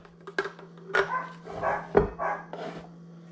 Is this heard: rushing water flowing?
no